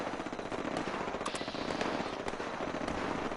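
Rapid automatic gunfire from super mutants in Fallout 76, a dense continuous burst of shots lasting a few seconds, loud and close.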